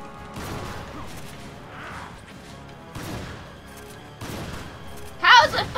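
Shotgun blasts in Resident Evil 5, a few heavy shots spaced about a second apart amid game noise, ending in a louder burst of clatter, with a player voice around them.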